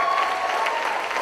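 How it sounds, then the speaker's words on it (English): Steady, dense applause from a crowd at a high school choir variety show, loud and continuous throughout with no pauses. "And one more huge round of applause for Rogine Brown"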